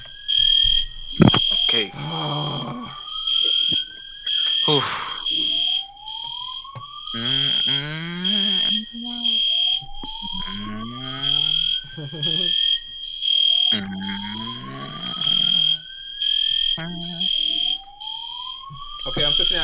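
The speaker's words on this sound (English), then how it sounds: "when the alarm is done" An alarm beeps in a steady repeating pulse, loud and continuous throughout, with a voice talking briefly over it.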